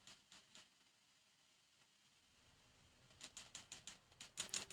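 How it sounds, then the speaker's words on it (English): Buttons click close to a microphone during play of the video game Eternights: a few crisp clicks, a quiet pause, then a quick run of sharp taps, all fairly faint. "you can totally hear my button clicking on the mic"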